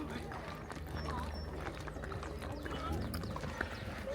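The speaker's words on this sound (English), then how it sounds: "I'm riding horsey." Horse hooves clip-clop steadily during a ride, moderately close, while people talk over them and the sound stays fairly soft and rhythmic.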